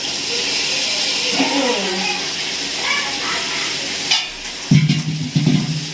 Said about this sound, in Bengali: এইবার খুব ভালো করে নেড়ে নিয়ে কচু শাকটা রান্না করে নিতে হবে